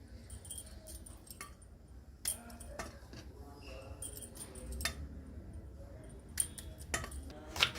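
Knife chopping okra into small pieces on a cutting board in a home kitchen, irregular sharp taps and clicks spaced a second or so apart, close and fairly quiet over low background noise.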